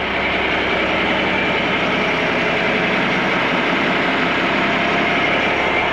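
An old John Deere tractor engine idles with a steady, loud, rumbling drone and an even mechanical vibration that holds unchanged throughout, close by and without speech.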